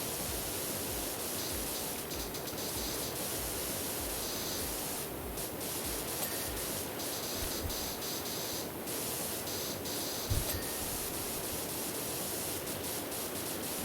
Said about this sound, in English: the spraying motion like this is more than enough to get it clean